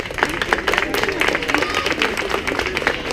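An outdoor audience in a park claps after a storytelling session for children, a close, busy patter of hand claps with a few voices mixed in underneath.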